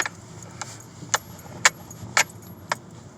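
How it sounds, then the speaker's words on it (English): Car keys swinging and jangling against a steering wheel during a drive, six sharp metallic clinks at a loose, uneven rhythm over a low steady engine hum inside the cabin. "That's the keys hitting the wheel."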